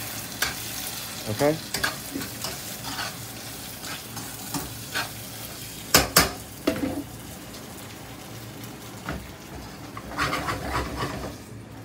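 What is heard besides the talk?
frying and stirring corn in a pan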